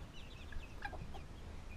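Hens, including a golden laced Wyandotte, cluck softly in a small flock, giving a few short, quiet calls over a low, steady background rumble.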